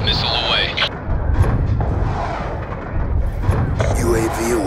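Rumbling missile launch and explosion booms in Black Ops 2 multiplayer, a low sustained roar under game voice callouts and radio chatter, with brief beeps.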